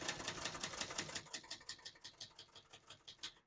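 Rapid, even keystrokes on a 1968 Brother Webster XL-500 portable typewriter, close and fairly quiet, each key strike a crisp clack in a steady typing rhythm with no voices.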